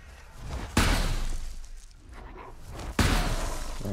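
A wooden door slams shut in the video game Valheim: two loud, sharp impacts a couple of seconds apart, each followed by a brief rumbling decay.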